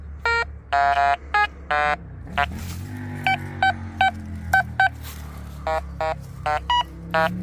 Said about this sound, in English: Try that on the ferrous bit of metal over here.